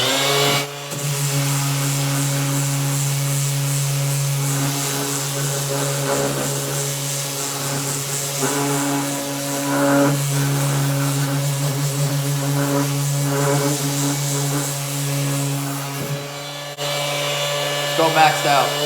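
A Kobalt 24V brushless orbital sander runs at speed setting 3 with a continuous close hum and whir that lasts throughout, with faint talk underneath.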